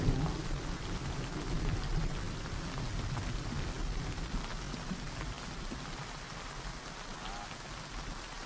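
Rain falls steadily in open grassland, a dense, even patter with a low rumble beneath it that eases slightly toward the end.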